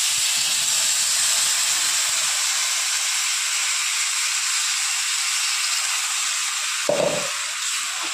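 Water pours into a hot, sizzling spice paste for a carp curry, giving a steady loud hiss and steam sound throughout, with a brief splash-like burst near the end.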